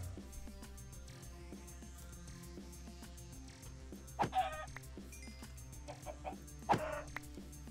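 Chickens in Minecraft give a few scattered clucks, two short bursts in the second half, over steady background game music with clicks and footsteps.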